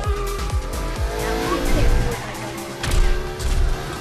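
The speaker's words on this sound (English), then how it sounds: "We're just racing in Rocket League" Rocket-powered cars race in Rocket League, with revving engines, boost roars and tire squeals layered into a busy, continuous mix under occasional talk.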